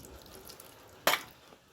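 Yamuna water is poured over a deity for ritual bathing, making a single brief splash after a quiet stretch.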